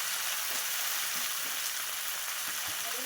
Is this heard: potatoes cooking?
yes